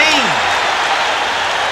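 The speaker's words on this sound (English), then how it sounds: "The crowd here at Caesars Palace going crazy" Boxing crowd at Caesars Palace in Las Vegas roaring after the bell ends round 13 of the Sugar Ray Leonard versus Thomas Hearns fight, a loud continuous wall of cheering that holds steady throughout.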